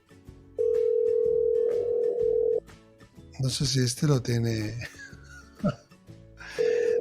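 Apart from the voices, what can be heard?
telephone dial tone and dialing while making a live call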